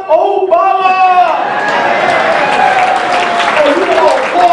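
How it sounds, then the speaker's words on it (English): Audience applause at a Democratic Party unity dinner in Broward: steady, loud clapping from a crowd that fills the whole stretch, with voices and chatter mixed in. "Oh, you all applaud now."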